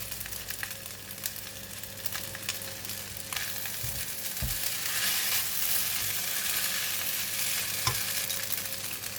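Spring onions and fried garlic frying in a wok for braised rice pin noodles, a constant hissing sizzle that swells midway, with a few dull thumps and scrapes of stirring and no one speaking.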